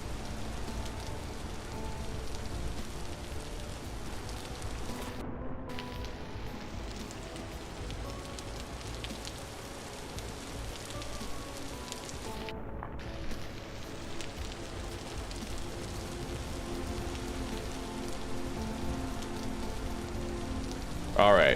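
Rain falls in Vintage Story, an even, soft patter and hiss on surfaces that continues for the whole stretch, with two brief dropouts partway through and no talk.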